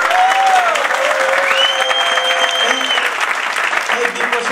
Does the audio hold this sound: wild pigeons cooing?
no